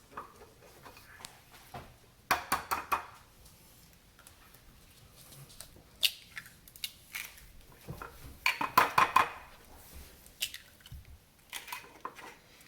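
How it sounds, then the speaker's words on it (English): Seven eggs go into a mixing bowl for ricotta zeppole batter, a series of sharp cracking taps and clinks in short clusters, close and fairly quiet, with pauses between each egg. "Now I'm going to put in my 7 eggs."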